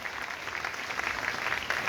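Brief, dense applause from a crowd at a church coronation celebration in Mariamabad welcomes the Very Reverend Father Sarfaraz Simon, a steady wash of clapping with no pause.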